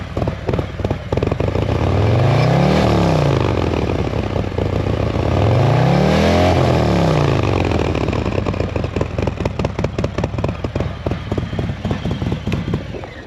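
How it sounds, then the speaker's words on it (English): A Harley motorcycle engine with an S&S 475c cam and Vance & Hines Power Duals exhaust revs hard twice, then settles into a loud, lumpy idle with a steady rhythmic chug. "Give it a couple revs for you guys."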